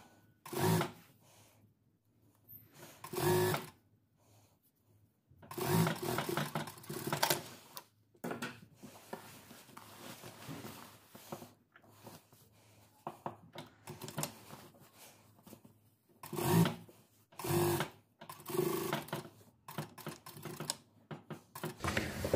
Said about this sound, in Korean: 이렇게 놓고 스티치 한번 합니다